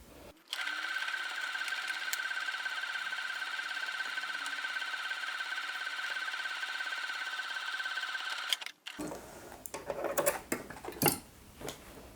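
A sewing machine stitches a seam on a fabric pencil case, running as one continuous, even, close whir for about eight seconds before it stops. Fabric rustling and handling noises follow.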